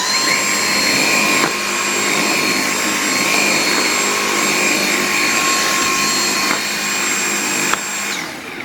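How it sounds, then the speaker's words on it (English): A stick-style vacuum cleaner picking up debris runs close and loud with a steady high whine, its tone shifting briefly a few times as it moves before cutting off near the end. "definitely a positive for the stick style vacuum"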